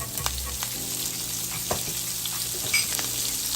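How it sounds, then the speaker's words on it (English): Garlic, green onion and parsley sauté in leftover oil in a pan, giving a steady close sizzle with a few stirring scrapes and light clinks, no talking. "So saute your garlic, onion, and parsley."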